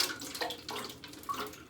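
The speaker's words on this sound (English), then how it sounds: "I've got a little bit of water in this tank and I'm just going to slosh it around a little bit." A little water sloshes around inside a snail tank, soft irregular splashes and gurgles close by at low volume, with no voices.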